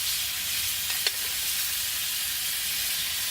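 Pork chops sear in a hot pan right after being flipped, making a steady, close, hissing sizzle with one brief clink partway through and no voices.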